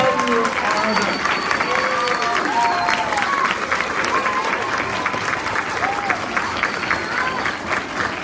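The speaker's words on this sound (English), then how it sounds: "let's give them one final round of applause" Elementary school audience applauds student performers at an oral language festival, steady clapping throughout with children's voices and shouts mixed in over the noise.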